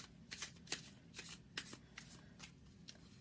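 Tarot cards being shuffled by hand, a series of soft riffling swishes in an irregular rhythm, close but quiet, with no voice.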